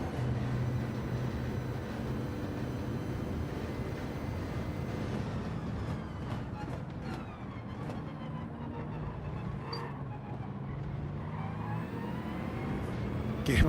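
A Bugatti race car in Gran Turismo 7 during an online community race gives a steady, dense engine drone that swells and eases slightly as it accelerates, continuous throughout.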